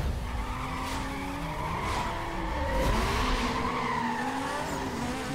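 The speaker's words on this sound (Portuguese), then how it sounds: "a aceleração desse carro é impressionante" Car accelerating hard and skidding in Need for Speed Most Wanted, with loud engine revs rising and falling over drawn-out tire squeals that sweep in pitch, continuous and close, no talk.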